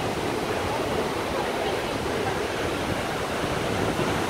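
Niagara Falls thundering with a continuous, broad roar of falling water, steady and loud with no break, heard from close by.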